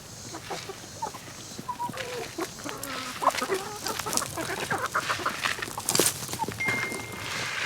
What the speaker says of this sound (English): That's the rooster and this is the hen.